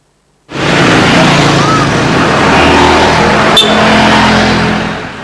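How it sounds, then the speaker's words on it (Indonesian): Busy holiday traffic on the Trans-Sumatra highway in North Lampung, a close, loud, steady rush of passing vehicles that starts abruptly and holds for several seconds before easing slightly. "Keramaian lalu lintas di jalan lintas tengah Sumatera Lampung Utara makin padat menjelang perayaan Natal dan Tahun Baru"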